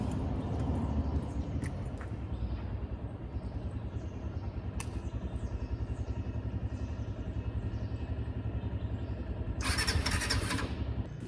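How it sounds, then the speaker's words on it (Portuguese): A motorcycle starter cranks over and over in a fast, steady chugging rhythm without the engine catching, close and fairly loud, with a brief rattling burst near the end. "Bem na hora de partir, minha moto resolveu não ligar."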